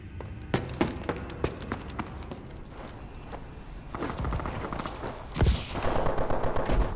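Gunfire in Call of Duty Advanced Warfare during a 2v2 search-and-destroy match: a string of sharp, closely spaced shots, with a heavier burst and rumble near the end, alongside movement and mechanical sounds.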